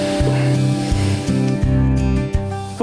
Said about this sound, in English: I'm just going to spray a little bit of it and see what it comes up like.